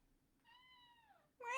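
A house cat gives a single drawn-out meow of about a second, clear and close, with a sharper burst of sound starting right after it in an otherwise quiet room.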